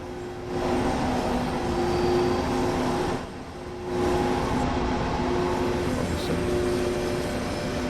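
A freight train runs in the Train Sim World 2 simulator, a loud continuous rumble with a steady tonal hum that drops briefly midway before resuming.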